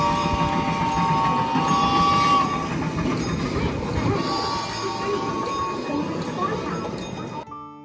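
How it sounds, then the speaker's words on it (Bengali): A train rumbles past at a zoo with a steady, close, loud rolling clatter and a brighter tonal whine on top. The sound fades slightly toward the end, and voices may be faintly present underneath. "ডোডো খুবই ভালোবাসে ট্রেন দেখত"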